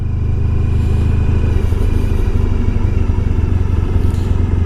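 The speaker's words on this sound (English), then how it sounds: "I only used the choke to start the bike, and I just drove off with my choke on" A 1994 Honda ST1100 Pan European motorcycle riding with the choke left on, its engine droning steadily and close with a low, even rumble throughout and no talk.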